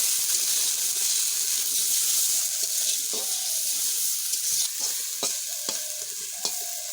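Water is poured into a hot pan of Malabar spinach seeds that has been frying, giving a rushing hiss and sizzle followed by a few scraping stirs.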